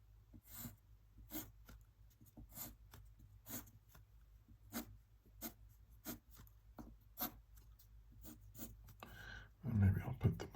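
Pen or marker scratching on paper or a tablet while a cube is drawn by hand: short separated strokes in an irregular rhythm, close and soft, with a brief rustle at the end.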